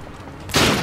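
A shotgun blast in the video game Uncharted 4 bursts in halfway through after quiet background, a loud sudden boom with a broad ringing tail.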